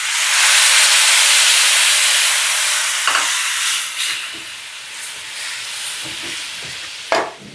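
Tamarind broth and spice powders go into a hot pan for a Telugu korameenu fish curry, giving a loud, steady hiss and sizzle that slowly eases off, with a few soft clinks of a spoon against the pan.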